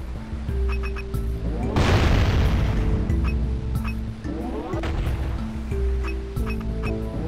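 A cannon fires in the Jak and Daxter video game, a heavy booming blast with a long rumbling tail, set against game music and ambient ocean wash.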